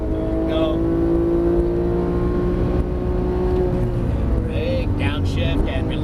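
Close, loud engine of a Porsche 991 GT3 on a race track, holding a steady high drone that then winds up as it accelerates, with brief shifts near the end and someone speaking over it.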